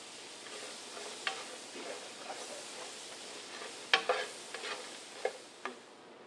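Nuts toast in butter in a pan on a stovetop at medium to high heat. A quiet, soft sizzle sits under intermittent scrapes and clicks of stirring, with a few sharper knocks.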